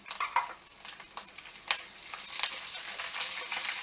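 Green chillies and curry leaves hit a hot tempering of oil, giving a steady close sizzle with a few sharp crackles and spoon scrapes, faint voice in the background.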